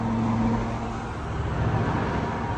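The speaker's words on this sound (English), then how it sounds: "It also helped the exhaust sound inside the cab." Steady engine and exhaust drone of a 1969 Ford F250 with a Crown Vic swap, heard from inside the cab while cruising at about 60 mph, a continuous low hum with road noise and no talking.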